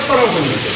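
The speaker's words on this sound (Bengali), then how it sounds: "এখানে এখন মাছ ভাজা চলছে" Fish fries in a pan during a rooftop picnic at an old house, a close, continuous sizzling hiss heard over a brief moment.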